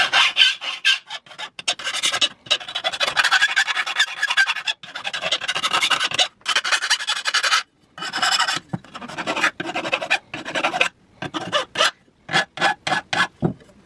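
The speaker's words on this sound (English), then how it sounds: "I'm just going to take off a couple of burrs here." Hand file rasping burrs off the edge of a metal 15-round AW magazine with extension, in short repeated strokes with brief pauses, close and fairly loud, no talking.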